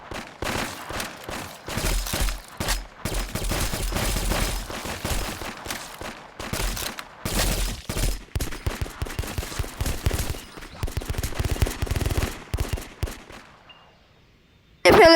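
Rapid gunfire from a zombie video game rattles in dense, sustained bursts with brief pauses, loud and close, then cuts to near silence before a final sharp burst.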